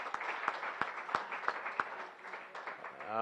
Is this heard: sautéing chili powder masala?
no